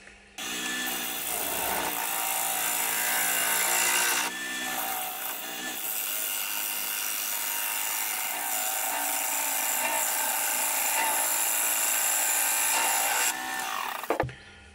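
A woodturning lathe cuts a tenon on the end of a maple bowl held in chuck jaws, giving a steady, loud, continuous scraping and whirring that runs nearly unbroken, with brief dips before stopping near the end.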